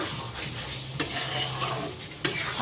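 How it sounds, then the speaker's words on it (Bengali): Chicken kosha stir-frying in a pan, a soft steady sizzle with scraping stirs and two sharp metallic clinks of the spoon against the pan, close and alone. "আর এইদিকে হচ্ছে চিকেন কষা চলছে।"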